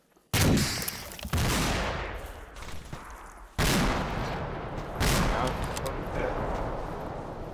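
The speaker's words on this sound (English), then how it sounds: "What the hell is friendly shooting up there?" Bursts of heavy gunfire from friendly forces near a forward operating base, with loud sustained volleys starting abruptly and a second burst resuming, close and harsh, with voices underneath.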